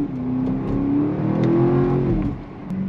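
A BMW X5M performance SUV engine revs hard under acceleration, its loud, steady drone climbing in pitch and then easing off near the end.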